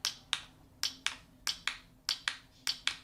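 Sharp, crisp plastic clicks repeat close up, about a dozen in quick irregular succession, with no voices.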